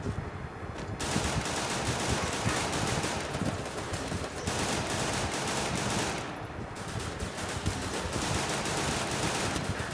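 Gunfire in a shooting video game forms sustained rapid bursts like machine-gun fire, dense and loud throughout with brief dips, no voices.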